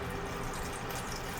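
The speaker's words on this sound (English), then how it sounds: "So I'm going to add just a little bit of water" Water poured into a pan for ziti, a steady soft splashing and trickling pour, close and continuous with no talk.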